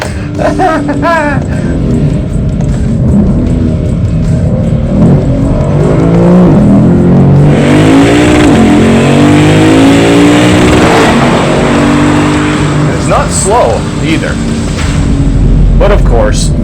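A naturally aspirated V8 engine in a 2025 Lexus IS 500 revs hard and rises in pitch, roaring loudly close by, with voices talking over the engine noise throughout.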